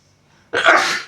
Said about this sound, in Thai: โอ้ขอโทษหลายๆจามทุกคนเด้